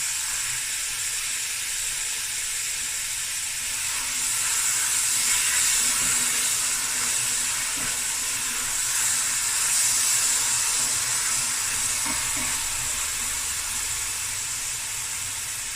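Onions hitting a hot pan for a Cape Malay crayfish curry, a loud, continuous hiss and sizzle that holds for several seconds and surges twice before easing, with no talking.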